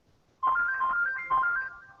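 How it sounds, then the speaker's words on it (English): A phone ringtone plays two short bursts of a bright electronic melody, loud and alone with no voices over it. "I have to take a phone call, apparently. We gotta get you a better ringtone"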